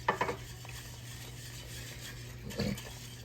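A whisk stirs and scrapes through a thickening turkey pot pie base in a pot, with a quick burst of strokes at the start and another brief scrape near the end, close and fairly quiet.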